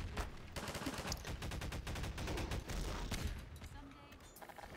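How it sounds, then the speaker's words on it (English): Rapid bursts of tungsten-rod fire from a weapon in Half-Life 2 multiplayer crackle in quick repeated volleys, dense and fairly loud, with game clatter around them. "I'm just gonna keep shooting tungsten rods at you in the hopes that you die"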